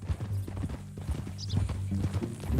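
A horse's hooves clip-clop in Red Dead Redemption 2, a close, uneven run of soft thuds on the ground, with a faint snort and almost no talk.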